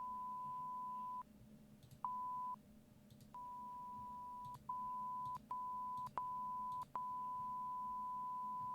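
A basic game beep sound effect: a plain, steady electronic tone played in a series of short and longer bursts with brief gaps and small clicks between them, quiet and alone.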